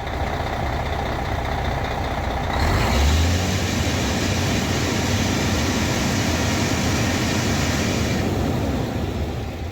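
A heavy bus engine idles with a low rumble, then revs hard into a sustained loud roar that holds steady before easing slightly near the end.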